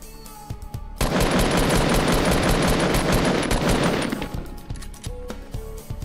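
Gunfire in Fortnite, a sustained rapid automatic burst roaring for about three seconds at close range, followed by a few scattered single shots as it fades.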